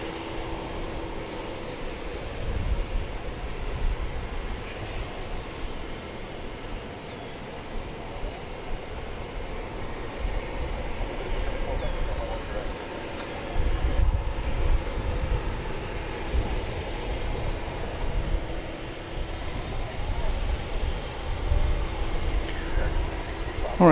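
Airplane taking off at DFW Airport, a distant, steady low engine roar blowing in on the wind, faint and continuous with slight swells, under light outdoor ambience.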